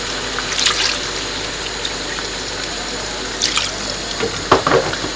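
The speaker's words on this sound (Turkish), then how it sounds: "bir su bardağı da su, su dökeceğim içine" A cup of hot water is poured into a cooking pot of sautéed vegetables and meatballs, giving a steady liquid splashing and hiss that stays fairly even, with small bubbling bursts near the end.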